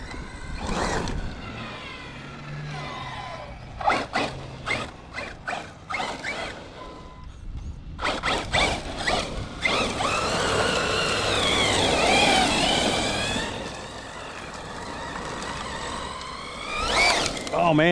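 A Team Corally Shiroi RC truck runs on a steady throttle, its electric motor whining and rising in pitch with bursts of tire and gravel noise, sometimes near and sometimes farther off, while someone talks over parts of it.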